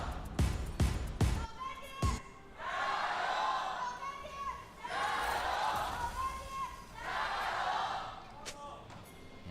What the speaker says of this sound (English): The crowd begins to yell